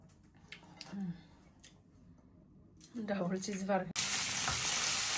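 Shrimp hit a hot pan with cumin tempering, a quiet start with a voice talking, then the frying sizzle swells and bursts into a loud, steady crackle near the end.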